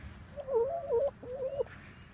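A hen clucks in a short run of warbling calls, two bursts close together, with faint outdoor background.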